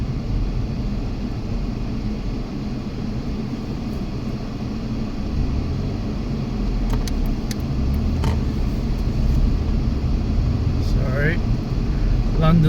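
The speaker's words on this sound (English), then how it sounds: "London traffic, like I said." London street traffic heard from inside a moving car, a steady engine and road rumble with passing vehicles rising toward the end, while someone talks over it.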